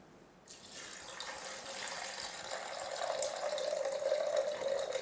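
Water runs steadily into a nut milk maker, a continuous splashing pour that grows slightly fuller as it goes on, with no talking.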